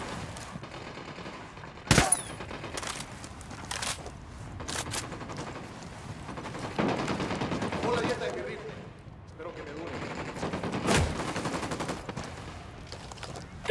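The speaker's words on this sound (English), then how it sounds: "I'm opening fire on these shitheads" Bursts of automatic gunfire from a firefight in the video game Ghost Recon Wildlands, with sharp loud volleys rattling against a busy game soundscape and voices speaking throughout.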